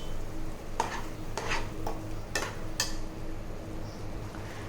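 A spoon stirs spinach puree and tomato puree into golden-brown fried potatoes in a pan. A few sharp scrapes and clinks stand out over a soft, continuous sizzle, and no one speaks.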